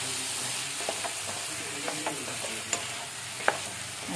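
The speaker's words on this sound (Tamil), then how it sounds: "இந்த மாதிரி நல்லா வதக்கிடுங்க." Elephant foot yam mixture sautéed and stirred in a hot pan, a steady low sizzle with a few sharp spoon scrapes and clicks spaced through it.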